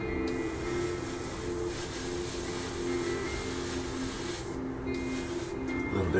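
Close, steady hiss of primer being sprayed onto a small part for an MPC General Lee model car kit, with a short pause near the end.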